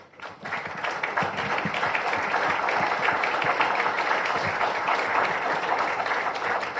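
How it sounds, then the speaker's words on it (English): Audience applause at a pilots' association conference, a dense steady wash of clapping from a large crowd lasting throughout, with no voices over it. "The pilots deserve a big round of applause."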